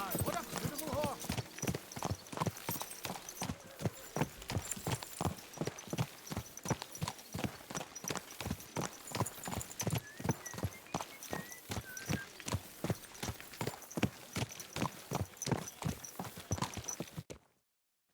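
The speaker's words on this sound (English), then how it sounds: "What a beautiful horse." Horse hooves clip-clop in Kingdom Come Deliverance 2, a steady close rhythmic trot of sharp hoofbeats running for about seventeen seconds, with brief talk and a whinny near the start before the sound stops abruptly.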